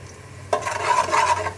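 Chopped onions dropped into about half a cup of hot cooking oil in a pressure cooker, for goat trotters: a sudden sizzle that keeps crackling steadily close by.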